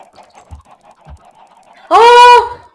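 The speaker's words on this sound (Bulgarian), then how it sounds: "Уау, кокошки, кокошки!" Soft murmuring clucks of Minecraft chickens run under a single loud, drawn-out honking squawk near the end, close and sharp.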